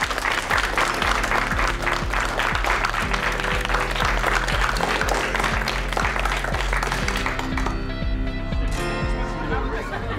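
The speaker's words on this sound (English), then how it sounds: "Matt, you may kiss your wife and we'll give you a round of applause." Applause at a wedding ceremony just after the couple are pronounced husband and wife, steady dense clapping filling the whole stretch with music playing underneath.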